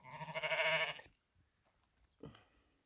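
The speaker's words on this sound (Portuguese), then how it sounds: "E mais outra ovelha, ó." A sheep on a farm smallholding in Brazil's Northeast lets out one loud, wavering bleat up close, followed by a pause and a short fainter bleat.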